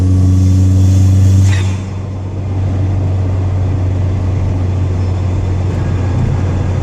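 A Ford Fiesta ST fitted with a 2J intake and aftermarket exhaust drones loudly and steadily up close, with a brief rise in pitch before settling back to a constant low hum.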